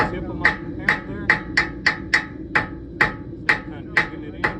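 A farrier taps a hammer tip into the web of a horseshoe to raise the toe clip at a summer farrier clinic: about twelve sharp, ringing metal strikes in a fairly steady rhythm, close and clear over a low room murmur.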